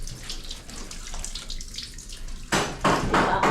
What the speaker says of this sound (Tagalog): Nag-agas-agas ng tubig.